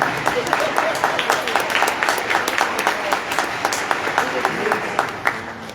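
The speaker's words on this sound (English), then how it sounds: "Ladies and gentlemen, yes, another round of applause." Concert audience in a school auditorium applauding a community band's Christmas performance, a dense steady wash of many hands clapping throughout, moderately loud and even, with a few sharper claps standing out.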